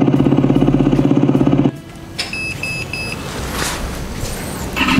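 Fiido electric bike's under-seat sound module imitating a two-stroke motorcycle exhaust: a loud, rapid buzzing putter that cuts off after a couple of seconds, followed by quieter noise and a short run of electronic beeps.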